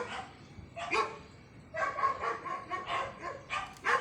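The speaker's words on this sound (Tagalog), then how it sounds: "Ang daming aw-aw." Several dogs bark repeatedly at a moderate distance, sharp barks coming in irregular bursts over low background noise.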